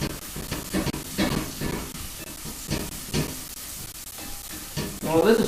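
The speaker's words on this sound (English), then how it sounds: "Well, this is simmering on really," Chicken for tacos simmering and sizzling in a pan over a low burner, a steady hiss with repeated stirring scrapes and clatters throughout, close and fairly loud, with faint talk in the background.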